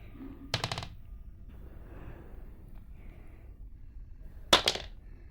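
Two short bursts of rapid gunfire ring out in a video game, several seconds apart, crisp and fairly loud over a quiet background.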